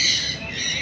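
Parrots at Islamabad zoo giving a sustained shrill squawking call, fairly loud and steady over a brief moment, with no other sound standing out.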